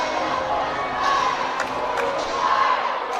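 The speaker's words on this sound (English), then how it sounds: "Cheerleaders cheering." Cheerleaders and a crowd cheer during a Mineola vs Jefferson playoff basketball game, a steady, loud wash of shouting and cheering voices throughout with a few brief sharper calls.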